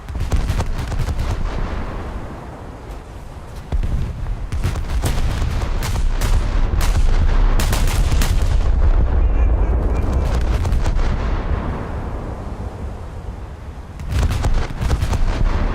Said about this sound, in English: There goes one turret detonation.